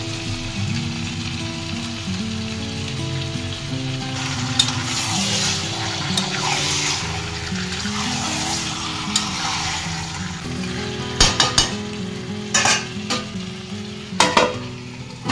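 Chicken sizzles with curry masala in a pan for Bengali chicken kasha, a continuous close frying hiss with stirring scrapes and a few sharp clanks of a spatula against the pan near the end, no talk.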